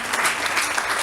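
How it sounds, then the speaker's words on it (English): An audience at an anniversary program for a charity applauds teachers, producing a brief, dense wash of many hands clapping at once, fairly loud and close. "Can we please give a big round of applause for the teachers?"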